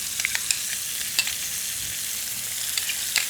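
Pork braising in a pan with tomato paste sizzles and crackles steadily, with sharp spitting pops scattered over a continuous frying hiss, close and alone.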